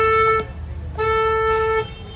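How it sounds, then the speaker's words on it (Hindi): Stock horn of a Hyundai car honked twice, a loud steady two-tone blare, the first short and the second longer after a brief pause, close to the listener. "इसका स्टॉक हॉर्न मैं आपको सुना देता हूँ एक बारी"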